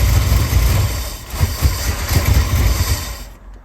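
A project vehicle's engine idles roughly, a close, steady low rumble with uneven pulsing throb, running alone without voices before fading at the end.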